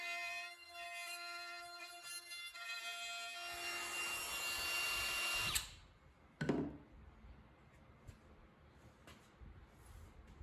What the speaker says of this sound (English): clamped together, and then routed all four at the same time